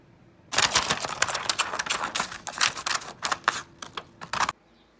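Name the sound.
scissors cutting quickly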